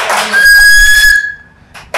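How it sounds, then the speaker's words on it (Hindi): One loud, sustained pipe whistle held for about a second, close and clear, with a short breathy burst at the end. "सर ने बोला था पिक्चर हॉल में ऐसे सीटी बजाते हैं"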